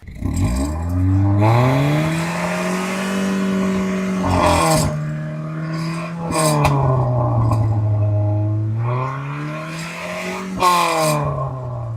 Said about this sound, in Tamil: எக்ஸாஸ்ட் நோட்டையும் கேட்டிருப்பீங்கன்னு நினைக்கிறேன்.